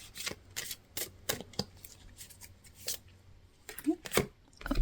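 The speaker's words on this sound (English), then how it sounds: "as I'm shuffling out these cards" Tarot cards shuffled and flicked in quick bursts of papery riffles and snaps, close by and fairly soft, with occasional light handling noises between.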